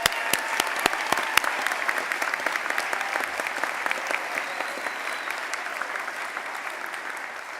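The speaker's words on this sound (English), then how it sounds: "offer another round of applause for both of our incredible student speakers today." Sustained applause from a large commencement audience for student speakers, steady dense clapping with a few sharp louder claps near the start, continuing throughout.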